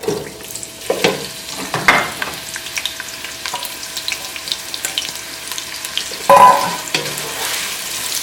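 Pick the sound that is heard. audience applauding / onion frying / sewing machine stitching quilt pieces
onion frying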